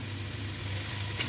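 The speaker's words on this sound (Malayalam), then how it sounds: "എന്നിട്ടൊന്ന് നല്ലോണം വഴറ്റണം." Ginger, green chilli and curry leaves sauté in a pan, a brief, faint, steady frying hiss with a low hum underneath and a soft clink near the end.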